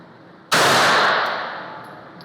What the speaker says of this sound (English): We'll do the first shot, see how well that goes, and then we'll do the other 5 as fast as I think I can reasonably shoot them.